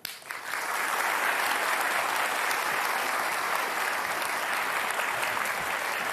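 A large audience at a televised Jakarta gubernatorial candidate debate claps continuously, a dense, loud wash of applause that starts abruptly and holds steady to the end.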